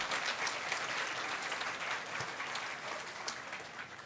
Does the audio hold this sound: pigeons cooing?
no